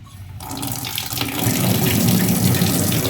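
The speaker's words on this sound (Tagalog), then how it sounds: "Buksan natin itong gripo." A tap opened in a house sends out a steady stream of water. After a brief quiet start, the flow quickly swells into a loud, close, continuous rush that carries on alone.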